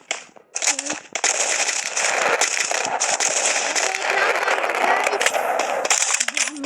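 Sniper rifle shots ring out in a mobile shooter game with a double-sniper loadout, sharp cracks over dense, loud game noise and effects, a few blasts close together.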